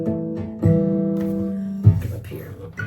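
Bell-like natural harmonics ring out from a Martin SC13e acoustic guitar, a plucked harp-style pattern with notes sustaining and decaying over a few seconds, close and clear with no talking.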